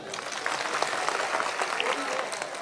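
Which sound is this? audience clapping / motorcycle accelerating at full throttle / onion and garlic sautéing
audience clapping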